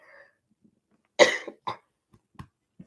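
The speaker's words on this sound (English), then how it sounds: "I'm gonna let you go before I have another coughing attack" A single harsh cough close by, likely allergy-related, followed by a few smaller throat sounds and faint breaths in an otherwise quiet space.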